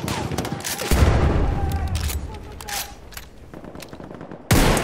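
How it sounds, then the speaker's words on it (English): Machine gun fire in a war video game, with bursts of rapid shots, a heavy rattling volley near the start, scattered shots and tails in between, and another sharp burst at the end, loud and close. "There's a machine gun."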